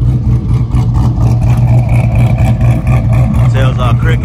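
A car engine with a broken muffler runs loud and steady close by, a deep throaty exhaust drone with a slight rev toward the end, while someone talks over it.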